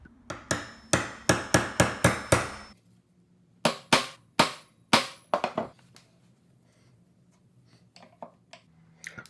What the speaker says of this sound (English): And then I used the chisel to clean up the corners.